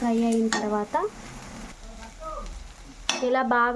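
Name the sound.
frying in a pan before adding eggs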